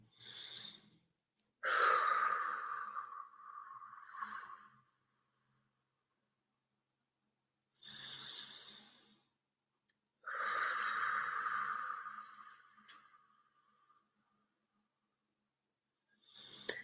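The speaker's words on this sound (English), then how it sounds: "let's just start off by taking a deep breath or two" Slow deep breaths with long breathy inhales and sighing exhales, several of them separated by stretches of near silence, soft and close with no speech.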